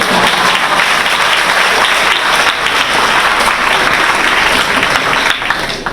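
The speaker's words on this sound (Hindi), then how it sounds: "अगर समझे नहीं तो आप ही ताली बजा दीजिए।" Loud, dense applause from an audience at a Hindi Diwas poetry recitation at KMC Language University in Lucknow, sustained and even throughout.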